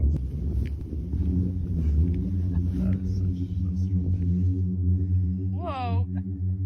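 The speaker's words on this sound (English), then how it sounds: "Rubbing the top layer of sand of a dune against the bottom layer of sand can produce a sound" A singing sand dune, its top layer of sand rubbing against the bottom layer, makes a low, droning hum with steady harmonic tones rumbling continuously, with wind noise and a brief faint whistling rise near the end.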